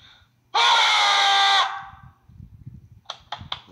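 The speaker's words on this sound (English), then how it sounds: "Why are you screaming at me?" A person gives one loud, shrill scream lasting about a second, followed by quieter rustling and a few short high bursts, close by.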